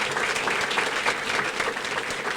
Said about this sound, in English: Can we give those generous sponsors a round of applause as well?